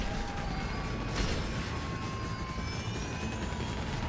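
A helicopter in a video game drones steadily with a dense, continuous rotor and engine roar and a brief louder burst partway through, with no talking.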